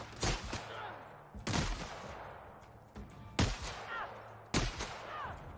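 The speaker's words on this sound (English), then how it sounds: "Shotgun's alright." Shotgun fire booms in The Outer Worlds, four loud separate blasts roughly a second apart, each with a sharp attack and a rattling reverberant tail.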